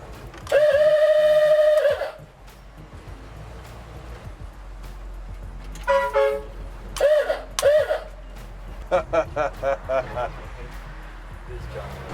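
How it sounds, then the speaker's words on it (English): A long, loud Awooga horn blast, then a run of shorter air horn honks, some swooping up and down in pitch, with voices and outdoor noise underneath. "We've got an Awooga horn and an air horn."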